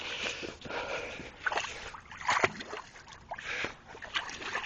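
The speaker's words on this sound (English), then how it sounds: "See that oil? I'm going to stick my rake in" A rake is pushed and stirred through shallow oily water, giving several close, wet sloshing and gurgling swishes in an uneven rhythm.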